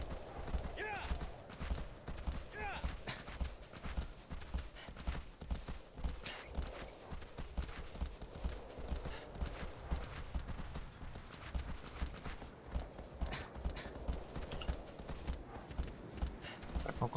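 A horse's hooves clop in a steady rhythmic gallop across the ground in the video game Shadow of the Colossus, continuous and fairly close, with a low rumbling background.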